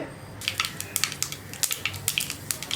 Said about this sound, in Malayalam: ഇപ്പോൾ നമ്മുടെ കടുക് പൊട്ടി തുടങ്ങുന്നുണ്ട്.